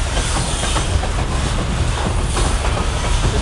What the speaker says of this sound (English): It's a pretty fucking long ass train